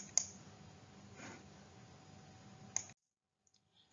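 Two sharp computer mouse clicks about two and a half seconds apart, crisp and close, with a quiet hum between them and silence after.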